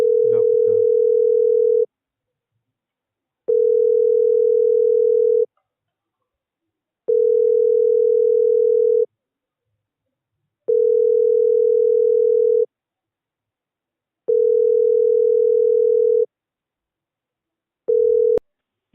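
A phone call rings out as a steady telephone ringback tone: a clear mid-pitched tone sounds in about two-second bursts with even pauses between them, repeating six times before it cuts off abruptly.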